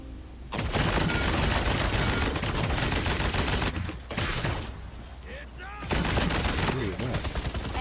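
Rapid sustained gunfire from the video game Paladins roars in long loud bursts, with a short lull before the firing resumes amid dense game effects.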